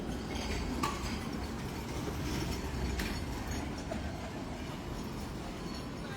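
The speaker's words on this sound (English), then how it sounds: "here comes the tram" A tram rolls past on a street in Lviv, Ukraine, a steady rumbling roar with faint clacking wheel sounds holding at an even, fairly close level for the whole stretch.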